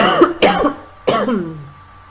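Three rough, close coughs mixed with throat clearing sound in quick succession, the last one trailing off into quiet; no speech.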